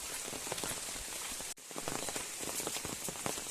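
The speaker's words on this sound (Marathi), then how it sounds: "सकाळपासून पावसाने जोर पण धरला" Heavy monsoon rain beats down on a road in rural Konkan, a dense, continuous close patter with scattered sharper drops and a brief dip partway through.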